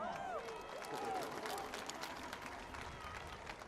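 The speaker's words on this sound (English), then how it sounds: "The mother of Dontre Hamilton, give her a round of applause" An outdoor crowd at an anti-racism protest rally in Washington claps and cheers in a steady broadband roar, with voices mixed in throughout.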